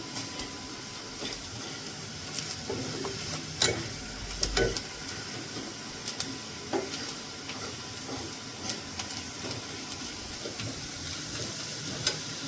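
Masala seasoned with amchur (dry mango powder) roasting in a pan for a spinach chickpea curry, a steady low sizzle broken by occasional clinks and scrapes of a stirring spoon, no talking.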